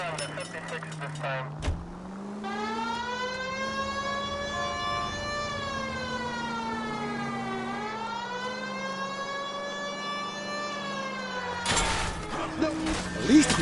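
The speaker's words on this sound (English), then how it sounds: "At least if you put the siren on, it'll let people know what's happening before you hit them, Phelps." A police car siren wails in the video game L.A. Noire, a steady rising and falling tone running for about ten seconds beneath low engine hum, with brief clatter at the start and end.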